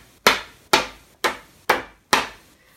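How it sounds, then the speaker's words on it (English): A greetings card flicked hard between finger and thumb to shake off loose heat-embossing powder: five sharp, close snaps evenly spaced about half a second apart, each dying away quickly, with no talking. "you need to give the card a really good flick, finger and thumb,"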